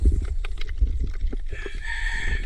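A chicken clucks amid steady outdoor background noise, with a few short calls followed by a higher, drawn-out crow-like note near the end.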